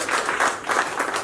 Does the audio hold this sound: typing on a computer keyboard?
no